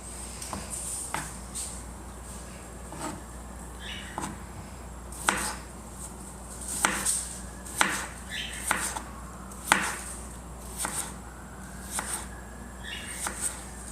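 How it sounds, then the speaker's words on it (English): A handheld cutter knife slicing through asparagus on a board, a series of crisp, irregular chops, fairly close but soft, with small pauses between cuts and no talk. "the knife will cut through the hardest point of an asparagus"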